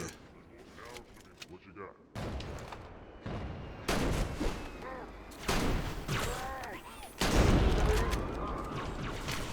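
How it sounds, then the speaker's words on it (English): Shotgun blasts in the Halo: Combat Evolved Control Room level, several loud booming shots at irregular intervals with reload clatter and other battle noise between them. "the shotguns are satisfying at least"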